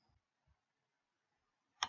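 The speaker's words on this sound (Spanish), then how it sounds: "Hago un clic," A single sharp computer mouse click sounds near the end of a quiet stretch while working in ArcGIS Pro, preceded by faint soft taps.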